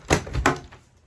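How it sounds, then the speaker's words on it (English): A dual-opening refrigerator door in a 2025 Grey Wolf 20RDSE travel trailer is pulled open. Two quick, close thuds about a third of a second apart are followed by a short fading rattle. "Fridges, they've gone with the dual opening"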